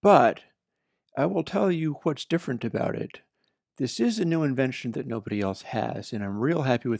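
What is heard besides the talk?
No distinct noise like a dog, phone or traffic.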